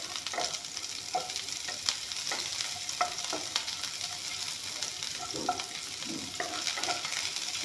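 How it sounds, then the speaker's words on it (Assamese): Onions sizzle in a small amount of refined oil in a wok, a continuous crackling fry with regular stirring knocks and scrapes, close by and without speech. "পিঁয়াজখিনি অলপমান ভাজি ল'ম।"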